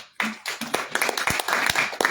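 Scattered hand claps from a small group, irregular and fairly close, building into brief applause with no talking.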